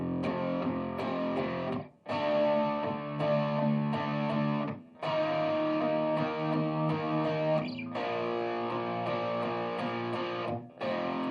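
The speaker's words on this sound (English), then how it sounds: "let's kick on a little distortion" Electric guitar played through a distortion effect, loud sustained chords and riffs ringing in phrases broken by three brief pauses, with no voices.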